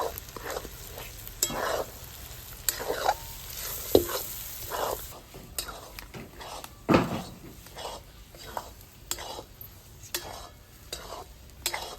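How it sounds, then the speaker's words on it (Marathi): Egg bhurji is stirred in a frying pan with a spatula, making rhythmic scrapes and clinks against the pan over a soft sizzle, close and without talk. "आता आपले अंडे सर्व टाकून झालेले आहेत आता आपण चांगलं मिक्स करून घेऊ"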